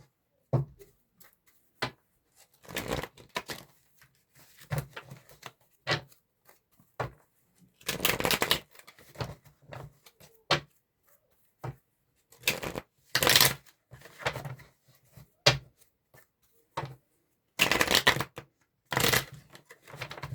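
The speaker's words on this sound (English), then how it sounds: "This deck's not letting me shuffle it, so let's get another one." Bursts of riffling and slapping sounds from shuffling a deck of cards, close and crisp, repeating irregularly with short pauses between attempts; no voices.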